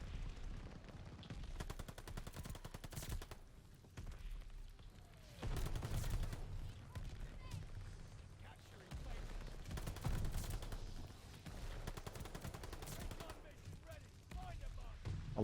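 Dense, rapid gunfire from a Call of Duty Vanguard multiplayer match, with bursts and overlapping shots that continue almost throughout at a steady loud level, along with other game sounds.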